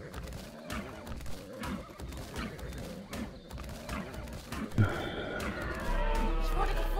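A horse whinnies and snorts in the survival game ARK, with clip-clop steps and other game noises beneath, while German-speaking players talk over it.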